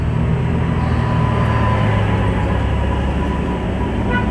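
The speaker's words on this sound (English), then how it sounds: "We have a diesel generator here that we power up in case we get a rolling blackout." Standby diesel generator running inside a factory, a loud, constant low-pitched engine drone with a steady mechanical hum and no breaks, heard up close with no talking.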